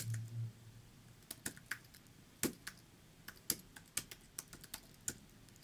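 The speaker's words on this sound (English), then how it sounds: "So type in your email address" An email address is typed on a computer keyboard: quiet, irregular bursts of crisp key clicks, close by and faint, with no talking.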